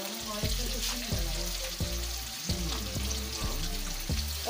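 Onions and chillies fry in hot oil, a steady, close sizzling hiss with occasional stirring clatter, while a low voice murmurs faintly underneath.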